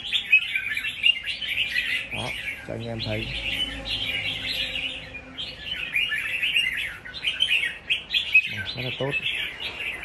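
Red-whiskered bulbul in a cage, singing bright, rapid chirping phrases in steady bursts close by, while someone talks briefly in between.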